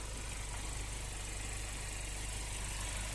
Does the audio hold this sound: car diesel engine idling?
yes